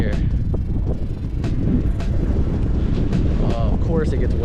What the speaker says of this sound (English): Of course it gets windy when we come out.